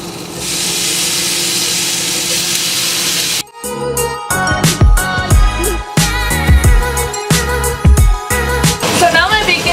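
A loud, steady sizzling hiss of bacon in a hot pan fills the first few seconds, then cuts abruptly to rhythmic music.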